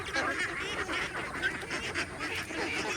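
A flock of free-range ducks quacking busily while they eat, with overlapping calls in a constant chattering stream that sounds close and steady.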